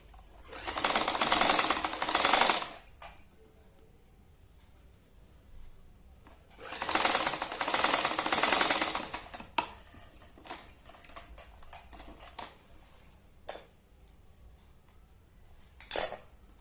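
A sewing machine stitching a sari runs in two loud sustained bursts of about two seconds each, separated by quieter stretches with faint clicks and handling noises, then ends with a short final burst.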